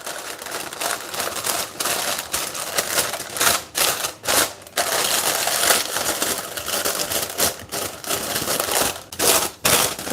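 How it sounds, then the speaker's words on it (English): Parchment paper crinkling and crackling as it is handled and pressed flat into a cheesecake pan, a dense, continuous rustle with sharper crinkly bursts, close and fairly loud, no talking. "Grab some parchment paper."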